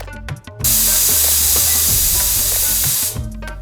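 A pressure cooker on a low-to-medium gas flame, cooking fada lapsi (broken wheat), lets out a loud, sustained steam hiss for about two and a half seconds, with softer tonal whistling before and after it.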